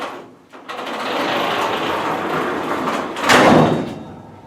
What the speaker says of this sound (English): I'm going to close the garage door